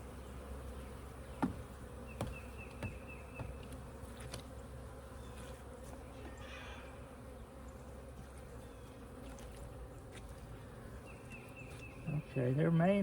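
Honeybees buzz in a steady, dense drone during a hive inspection and brood rotation, with occasional soft handling knocks and rustles close by.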